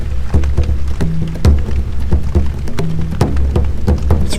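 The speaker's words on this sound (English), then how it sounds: "It's raining." Rain falls on a tent at a solo overnight campsite at Sebastian Inlet, Florida, a loud close patter of drops with dull thumps scattered irregularly across the fabric, with no talk.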